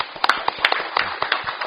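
Audience applause at a Press Arbitration Commission seminar and forum, a brief burst of many hands clapping in a hall, close and fairly loud, with no speech over it.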